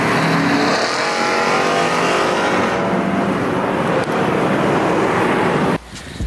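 A VW GTI with an IS38 turbo accelerates hard, a steady, dense roar of engine and road noise heard from inside that holds throughout before dropping off abruptly at the end.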